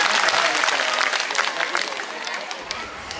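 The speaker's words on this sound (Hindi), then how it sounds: "सब के जोर से ताली" Loud, dense applause from the audience at a Women's Day (Mahila Diwas 2024) ceremony in a diocese, held steady for about three seconds and easing slightly at the end, with voices mixed in.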